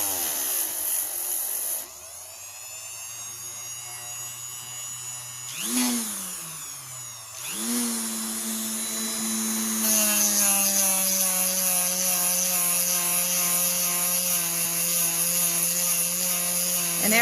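Dremel rotary tool polishing the face of dinosaur gembone, a loud high-pitched whine that drops in pitch as the bit presses into the stone, dips and recovers twice, then holds a steady grinding tone.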